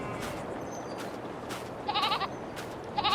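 Goats and sheep bleat in a livestock pen in Farming Simulator 22, a couple of short nasal calls standing out over steady farmyard ambience, moderately near with no talking.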